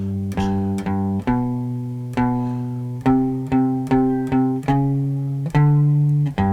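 Clean guitar picking a repeating 12-bar blues riff, played on three strings, steady plucked notes in a shuffling rhythm, fairly close and moderately loud with no voices.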